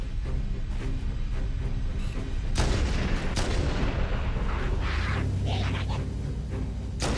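Gunfire in the video game Halo: Combat Evolved Anniversary while shooting a bot, loud booming shots with sharp cracks among continuous game noise, several heavy reports in quick succession, with some talking mixed in.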